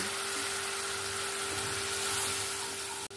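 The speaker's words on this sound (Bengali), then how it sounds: "আমি এখানে কষানোর সময় যে মশলা ধোয়া জলটা ছিল সেটা এখানে দিয়ে মশলাটাকে ভালো করে কষিয়ে নেব।" Spice paste with added water frying in a pan for egg curry, a steady close hiss and sizzle running throughout with no talking.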